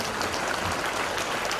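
Audience clapping at a student event with Harish Rao; a dense, steady burst of applause from a crowd, loud and close, unbroken throughout.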